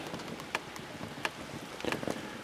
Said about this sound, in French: Brouillard, pluie.